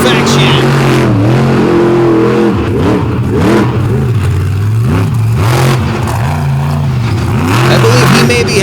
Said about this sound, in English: As Tweedy works the whole pulling track here to perfection